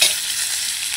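Snakehead fish head spatters in hot oil, a brief, dense, close sizzle holding steady with no talking.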